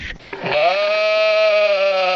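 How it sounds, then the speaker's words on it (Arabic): A sheep bleats in a video game, one long wavering loud bleat held for nearly two seconds after a brief bit of noise, with no talk over it. "ايه طلع خروف"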